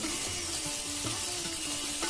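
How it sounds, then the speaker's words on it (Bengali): Chopped onion frying in the same oil used for a fish head, with a steady low sizzle and faint stirring scrapes running throughout, close and fairly quiet. "সেম তেলের মধ্যে আমি দিয়ে দেবো পেঁয়াজ কুচি"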